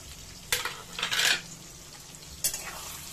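Chopped tomato dropped into frying onions in a pan, bursts of scraping and clattering stirring over a low sizzle, one longer rough stir in the middle and a final sharp scrape, no voices.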